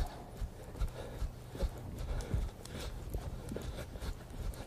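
Horse hooves clip-clopping in a steady rhythm as a dressage horse moves through lengthened strides in an arena during a collection training session, with the beats fairly close and moderately loud over a low background rumble.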